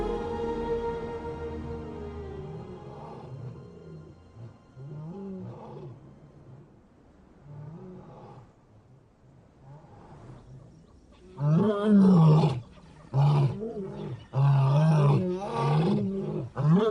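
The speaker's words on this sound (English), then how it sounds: "The power of their desperate roars carry far enough to reach the pride." Young lions in the Namib desert give repeated drawn-out roars that build from low moaning calls into loud, rhythmic grunting bursts, heard alone in open quiet.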